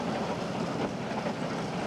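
A train rolling along the West Coast railway near Strahan and Macquarie Harbour, a steady broadband rush and rumble of wheels on track, continuous and moderately distant, with no voices.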